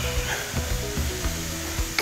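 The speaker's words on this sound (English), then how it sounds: "We're gonna let these sizzle for a minute." Lima beans and oven-roasted corn cut from the cob sizzle in a hot pan, a steady close crackle with faint stirring scrapes and small pops over about two seconds.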